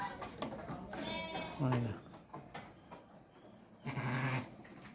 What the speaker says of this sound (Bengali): বকরির বাচ্চাটা খুব সুন্দর মার্শাল্লাহ